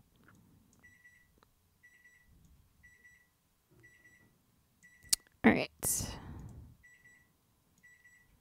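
A kitchen stove alarm beeps in short repeating bursts, faint and steady, under quiet sounds in a home with a brief spoken remark and a burst of louder noise partway through.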